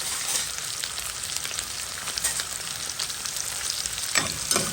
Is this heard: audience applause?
no